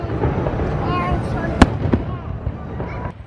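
Fireworks at Walt Disney World bang and crackle at a distance, with a sharp pop standing out from a rumbling background while a person talks over it.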